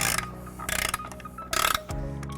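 A ratchet with a 15mm socket tightens bolts on a trailer hitch for a 2017 Tesla Model S, with several bursts of rapid metallic clicking separated by short pauses and a closing clunk.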